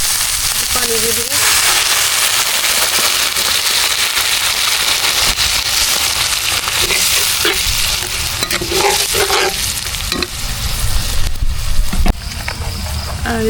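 Beef brain and onion masala frying in a pan during an outdoor night cook, with a steady loud sizzle and repeated stirring scrapes. The cooking noise runs continuously throughout.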